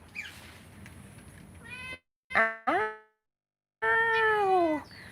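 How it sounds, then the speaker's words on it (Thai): A mother cat searching for her missing kitten: a quiet start, then several clear close meows, two short rising calls and a longer drawn-out meow near the end, with brief silences between. "เดี๋ยวเรามาดูแมวอ แม่แมวนะคะ"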